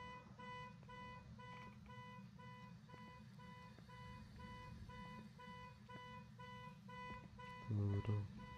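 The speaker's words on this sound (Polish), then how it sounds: "Ale ten alarm irytuje, o mój Boże." In the ghost-hunting video game Phasmophobia, an alarm beeps in a steady repeating pattern of high electronic tones, faint and continuous over quiet background noise, with a louder low thump near the end.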